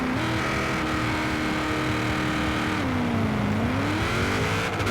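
Ford Mustang Boss 302 in Forza Horizon 4 holds a loud, steady engine drone at a drag launch, the revs dipping briefly then climbing again, a continuous close mechanical tone with no talk.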